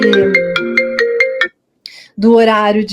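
A phone ringtone plays a repeating melodic pattern of about six bright tones close by, then stops; after a short pause a voice speaks.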